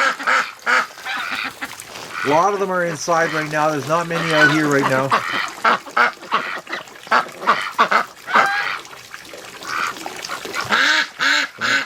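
Wintering ducks quack in a loud, rapid series of harmonic calls near a lake in cold weather, clustered mid-clip, with someone talking before and after them.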